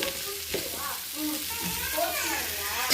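Capsicum, carrot and cabbage stir-fry in a hot pan, giving a bright, close sizzle broken by stirring scrapes and clatters over a few seconds.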